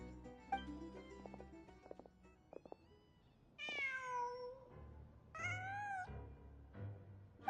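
A cat in a video game meows twice, drawn-out and clear, after a few soft clicks and thumps, with no talking.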